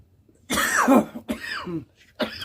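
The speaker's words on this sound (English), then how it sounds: "coughing and all that" A man with a sore throat and asthma coughs harshly several times in close succession, loud and near, with rough throat-clearing between bursts.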